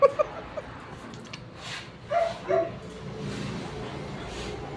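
A stray dog yips and whimpers in a few short, scattered bursts over a low, quiet background, brief cries separated by pauses.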